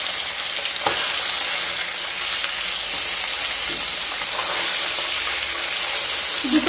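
Flipped tilapia pieces fry in hot mustard oil, a loud, close, unbroken sizzle with scattered crackles and a single clunk of a utensil near the start.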